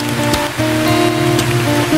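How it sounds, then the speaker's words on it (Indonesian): Rain patters steadily on a simple tent at a camp cooking site, a dense close hiss with occasional heavier drips and a low tonal hum underneath, continuous and fairly loud, with no voices. "Hujannya agak reda-reda."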